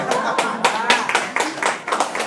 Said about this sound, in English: Talia means clapping.